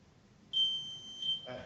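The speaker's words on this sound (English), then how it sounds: "Buzzer, go." A quiz competition buzzer sounds with a sharp, steady electronic tone, two short pulses riding over a sustained note, fairly faint, then a voice begins speaking.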